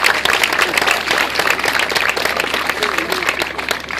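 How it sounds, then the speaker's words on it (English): Crowd applause at a 13U Babe Ruth Mid-Atlantic Regional baseball tournament in Niskayuna, NY, a steady dense wash of clapping from a large outdoor group, sustained for several seconds with faint background voices. "how about a round of applause for a great group of parents and sponsors to make this happen"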